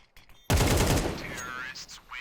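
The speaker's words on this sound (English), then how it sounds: "As soon as I hear the smoke dropping, I peek and shoot him." Gunfire in a Counter-Strike match, a single sharp loud shot followed by a ringing, fading tail with a few faint game sounds behind it, and no talking.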